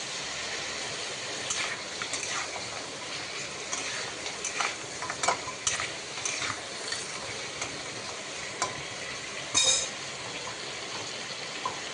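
Crushed garlic fries in oil, a low continuous sizzle with scattered pops and spatula ticks over several seconds. No one speaks.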